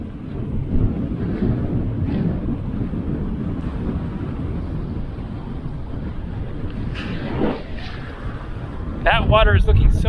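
Steady wind on the Mediterranean coast of Formentera rumbles against the microphone in a continuous low roar, with a brief voice near the end.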